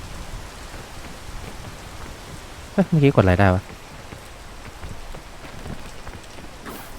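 Continuous soft patter of rain in the game PEAK, with a person speaking briefly in the middle.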